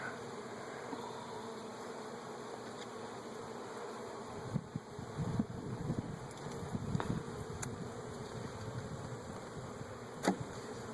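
Honey bees hum in a low, steady drone around an open beehive, with a few louder buzzes as single bees fly close past.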